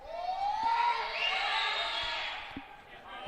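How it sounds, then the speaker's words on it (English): A basketball arena crowd swells into loud, rising cheers and whistles around a free throw during a college men's game, with a few ball bounces heard beneath the roar. "Cook Center crowd gets loud,"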